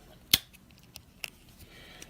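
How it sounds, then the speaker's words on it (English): Small Wenger scissors on a pocket knife snap shut with one sharp metallic click, then a few fainter ticks follow as the spring lever is worked, close up in a quiet room. "And these are the Wenger scissors."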